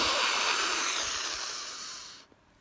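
A long, loud breath drawn in through the nose as a meditation mantra, a broad airy hiss that fades gradually before stopping abruptly, heard alone.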